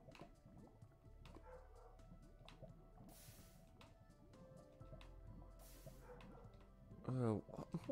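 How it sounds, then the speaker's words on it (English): A dog in a Minecraft game gives a short burst of barking near the end, louder than the steady wash of game noise and drips before it. "Why is that dog always barking?"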